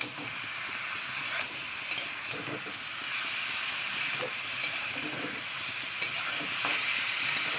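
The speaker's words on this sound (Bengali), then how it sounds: "ভালো করে আমি কিন্তু তেলের মধ্যে কষে নিয়েছি" Meat frying in a small amount of oil in a home kitchen gives a steady, close sizzle and hiss throughout, with a few faint stirring clicks and no talking.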